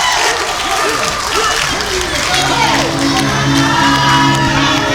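Wrestling crowd at a PCW Limelight show cheers, whoops and applauds for a champion holding up the belt, a dense, loud roar of voices and clapping that holds steady throughout, with a commentator talking over it.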